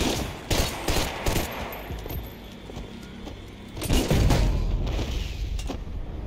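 An explosion in the shooter game Max Payne 3 comes with rapid bursts of gunfire and then a heavy, loud boom that rumbles on before more shots crackle.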